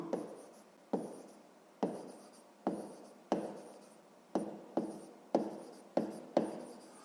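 Handwritten numbers being jotted down during a sixth-grade maths exercise, heard as about nine short, crisp strokes arriving in a fairly steady rhythm, each scratch quickly fading, close and fairly quiet with no one talking.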